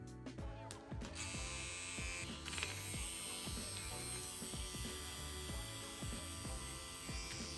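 A Hummingbird Bronc V1 wireless tattoo machine runs with a steady electric hum and buzz, heard alone and up close with a few irregular clicks at the start.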